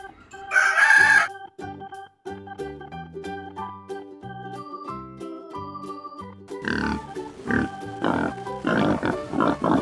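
A loud cartoon-style rooster crow bursts out at the start of a farm animal puzzle game for kids, then a bright plinking melody and playful sound effects follow.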